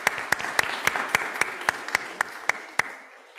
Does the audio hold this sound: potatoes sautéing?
no